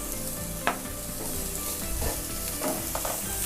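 Grated carrot sautés in oil in a pan while making moong dal dosa. Close, steady sizzling runs throughout, broken by light stirring scrapes, with no talking.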